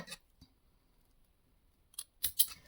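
Scissors snip through crochet yarn in a few quick, close cuts, with a soft click early on and a sharper pair of snips near the end, otherwise quiet.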